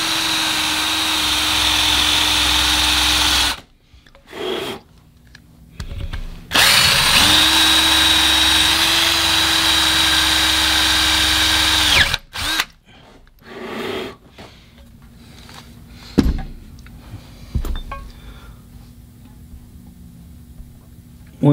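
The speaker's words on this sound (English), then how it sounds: "start moving my hole that I'm drilling that way" A power drill bores into a cracked cylinder head loudly in two long sustained bursts with a steady whining tone, then stops, leaving scattered clunks and quieter handling noises.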